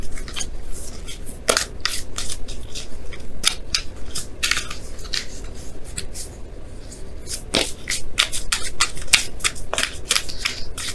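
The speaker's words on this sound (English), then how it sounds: "I'm going to pull you guys your Romance Angels card here" Tarot cards being shuffled, with repeated crisp riffles and snaps of card stock recurring in quick bursts over a steady background hiss, close and fairly loud, with no voice.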